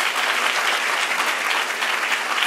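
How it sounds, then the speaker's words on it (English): Audience applause for an honoree at an artist-in-residence event, a dense, steady wash of many hands clapping, loud and even throughout with no voices over it. "If we could have an applause for Alex Kritzelis."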